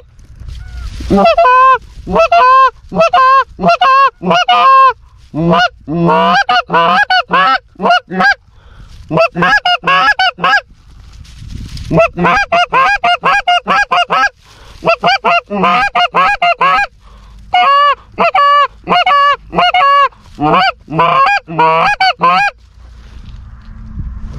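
Wild geese honk repeatedly in loud, overlapping calls near decoys during a goose hunt, arriving in dense bursts separated by short pauses, with a little quiet talk underneath.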